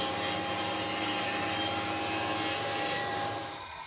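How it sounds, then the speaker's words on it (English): A saw blade cutting a kerf into the wood of a guitar speaker cabinet, a loud, steady whining rasp heard close up that continues for about three seconds and then trails off. "now I'll set my blade height and get my kerf cut for the"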